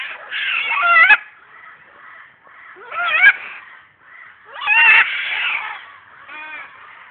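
Loud birds calling outdoors near cattle: several harsh, squawking bursts that rise and fall, with quieter calls in the gaps between them.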